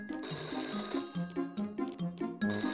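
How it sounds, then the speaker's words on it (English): A cartoon telephone rings in a Peppa Pig video game, a bright electronic ring of repeated short bursts against a steady low musical backing, fairly loud and close with no talking. "The phone is ringing. I wonder who is calling."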